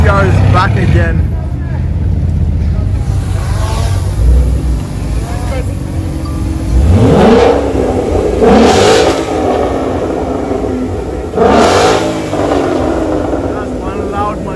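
A loud sports car engine revs hard on the streets of Accra, with several rising roars and passing surges over a constant road drone, while people talk over it.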